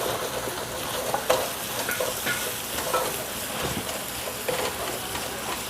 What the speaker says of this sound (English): you need to constantly stir it, because the ginger garlic paste will stick to the bottom